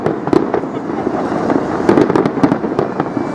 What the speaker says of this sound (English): the best fireworks in the world.